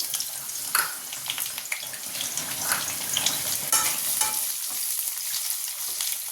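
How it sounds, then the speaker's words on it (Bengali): Onions sizzle and fry in hot oil in a pan for a spicy mutton curry, a steady crackling hiss with occasional louder spits and stirring scrapes, close and continuous without talk. "পেঁয়াজটা লাল লাল করে ভেজে নিই।"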